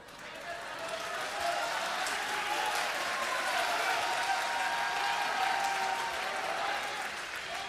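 Audience applause on a Turkish TV competition show, steady dense clapping throughout at moderate loudness with a faint crowd murmur and no speech.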